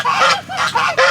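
Farm ducks being fed honk loudly and close by, three or four harsh nasal calls in quick succession with no talking.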